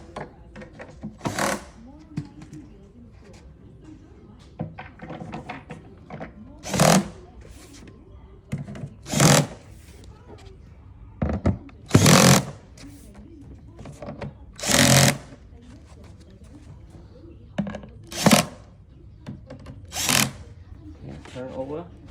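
A power tool fastens cam locks on a bed frame with a gas-lift base, producing repeated short, loud mechanical bursts spaced a few seconds apart against a quiet background.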